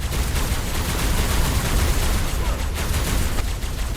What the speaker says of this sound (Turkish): Silah test edeceğim dur.